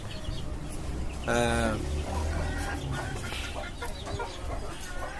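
Chickens kept in a cage on a house rooftop cluck and squawk, with one loud burst standing out among steady low clucking, while someone talks over them.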